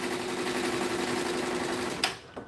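SWF 12-needle embroidery machine stitching with gold thread gives a steady, rapid mechanical chatter close by, then stops abruptly with a sharp clack and a softer knock as the run halts.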